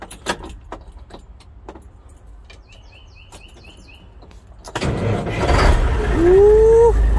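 A 1983 Mack truck's engine is started: quiet clinks and jangling keys come first, then the engine cranks and catches into a loud, rising rumble, with a high chirp above it.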